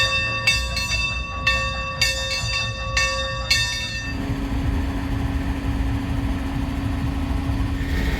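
A display train at the LA County Fair rings a bell in regular clangs for about four seconds, then a steady engine hum continues over background crowd noise.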